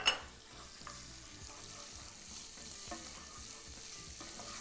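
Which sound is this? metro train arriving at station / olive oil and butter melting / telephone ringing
olive oil and butter melting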